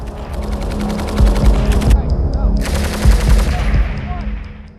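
A Browning .50 caliber machine gun fires in rapid automatic bursts, loud sharp repeated reports with a brief lull between two strings of shots and echoing tails.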